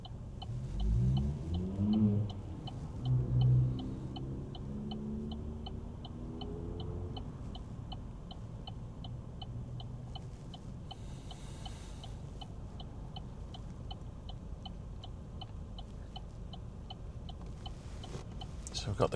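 A car pulls away steadily in first gear at a junction, with a low engine rumble and a brief swell of acceleration early on, then a steady drone; a repetitive ticking, like an indicator, runs throughout while a voice talks over it.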